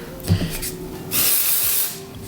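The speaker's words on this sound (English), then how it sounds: "And I'll just spray really big like that." A sustained dry shampoo aerosol spray hisses close by for about a second, a broad airy rush that fades out, after some soft handling sounds.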